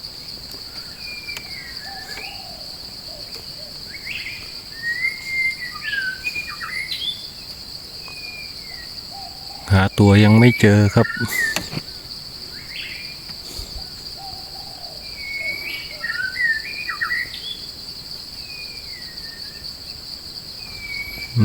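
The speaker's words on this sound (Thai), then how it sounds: "เสียงนกกลางเขนร้องนะครับ" An oriental magpie-robin sings repeated whistled phrases at moderate distance from a raised forest hide at night, over a steady high insect drone, with someone speaking briefly and a loud rustling burst midway.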